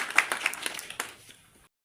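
Short burst of scattered hand clapping from the audience at a community honour ceremony in Sri Ganganagar, a few sharp claps tapering off within about a second and a half.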